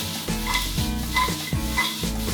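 Carrots stir-frying in a pan are tossed and flipped, a sizzle punctuated by three rhythmic scraping, clattering tosses about every half second, close and clear with no talk.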